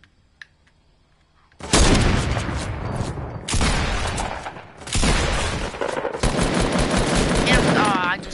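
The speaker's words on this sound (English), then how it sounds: "And, I just got sniped." Bursts of loud, close gunfire in a PS4 shooter, including a sniper shot, arrive in several heavy volleys after a quiet opening, with faint voices in the mix.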